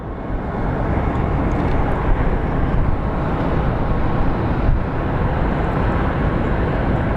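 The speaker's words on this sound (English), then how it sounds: "Let's take a look at the A300 that is approaching." An Airbus A300 airliner approaches Phoenix Sky Harbor airport with a loud, steady engine roar and rushing hiss that holds constant throughout, close and unbroken.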